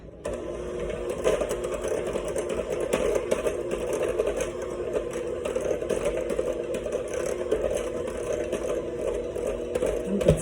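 Cocoa and flour being mixed into biscotti dough by an electric mixer, a steady whirring hum running unbroken and fairly loud throughout with no voices.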